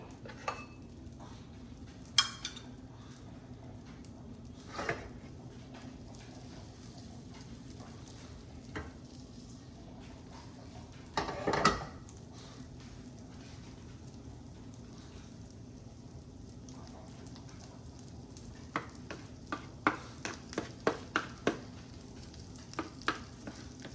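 Ginger and chili sizzle and fry steadily in butter in a pan for shahi paneer, a continuous crackling hiss with occasional utensil clinks and stirring scrapes, close and alone with no voices.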